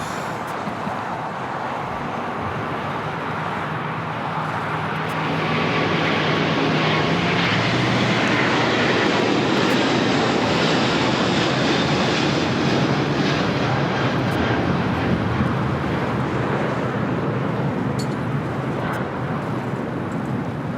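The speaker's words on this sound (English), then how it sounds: "This is Korean Air Flight 18 Super taking off to Seoul on the A380" A Korean Air Airbus A380 on its takeoff roll from runway 25 Left at LAX, bound for Seoul; its engine roar swells after a few seconds into a loud, sustained broadband rumble that holds steady to the end, no voices.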